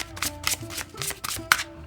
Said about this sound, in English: Starman Tarot, let's shuffle.